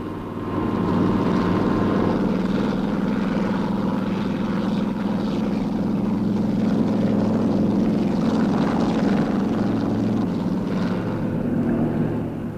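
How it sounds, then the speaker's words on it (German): A loud, steady mechanical drone of several helicopters' rotors and engines fills the whole stretch, continuous and unbroken with no voices. "Die Hubschrauber führen die Jagdgruppe heran."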